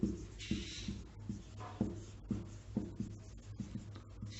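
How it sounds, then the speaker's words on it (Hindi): Chalk scrapes and taps against a classroom board in a steady series of short strokes, close and moderately quiet, with no talking over it. "हम इसको लिख देते हैं"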